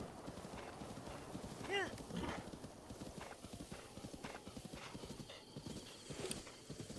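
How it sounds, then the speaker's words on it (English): A horse in the video game Breath of the Wild runs with rapid, steady rhythmic hoofbeats, and a brief neigh cuts in partway through. A voice talks over it at times. "horse riding isn't something I've been doing a lot of in this game"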